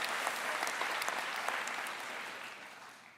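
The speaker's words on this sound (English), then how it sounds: "let's applaud." Applause from a graduation audience during a valedictorian speech, a dense, steady wash of many hands clapping that fades gradually over about three seconds, with no talk over it.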